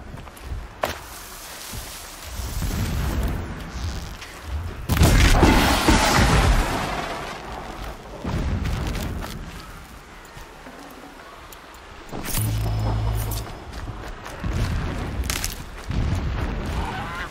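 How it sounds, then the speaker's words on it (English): Distant explosions rumble in the Horizon Zero Dawn video game, deep booming thuds rolling across the scene with a louder burst partway through, amid ambient game sounds. "explosions in the distance."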